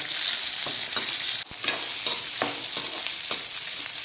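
Shallots and large onions sautéing together in a pan for a tomato chutney, a dense steady sizzle with repeated spoon strokes and scrapes at uneven intervals, close and loud, with no voices.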